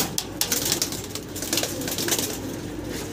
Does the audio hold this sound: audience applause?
no